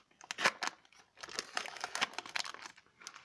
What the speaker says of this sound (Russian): Рвем пакетик и достаем наклеечки.